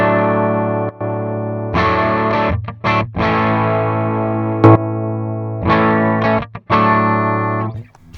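Electric guitar played through an Eventide Rose delay pedal in guitar mode with a gritty, distorted tone; sustained chords ring out, broken by short pauses and choppy stabs.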